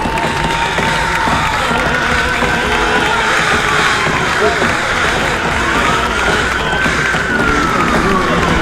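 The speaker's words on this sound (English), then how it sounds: "I want you to clap for all the children" A conference audience fills a hall with sustained applause and cheering, a dense continuous roar of clapping with scattered shouts, loud and unbroken throughout, with voices mixed into the crowd noise.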